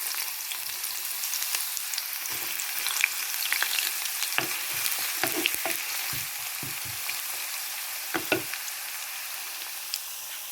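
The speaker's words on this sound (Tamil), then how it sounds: "எண்ணெய் சூடாகிட்டது நான் இப்போ பொறிக்க போடுவேன்" Beetroot pieces frying in hot oil, a steady bright sizzle with scattered pops and crackles and occasional stirring knocks against the pan, close and continuous, with no voices.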